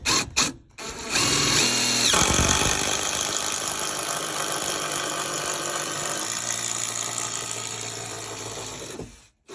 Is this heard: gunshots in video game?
no